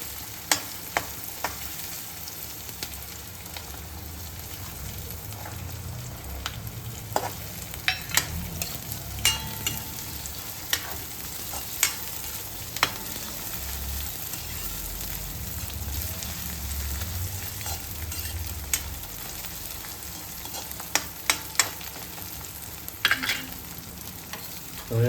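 Onions and peas sauté in a pan for vegetable masala Maggi, a continuous soft frying sizzle broken by sharp spoon scrapes and taps as the mix is stirred, close and fairly quiet.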